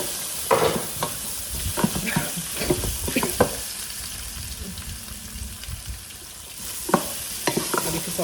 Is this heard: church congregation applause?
no